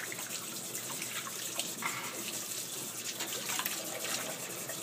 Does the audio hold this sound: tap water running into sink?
yes